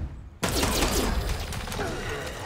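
A character's gun fires in Miasma Chronicles: a sudden loud blast after a short quiet lead-in, followed by a ringing, rattling tail.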